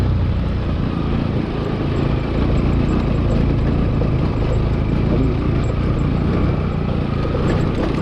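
A Hero Xpulse 200 motorcycle engine runs steadily just after starting, a close, loud, even low rumble that holds at a constant idle throughout, with no talking.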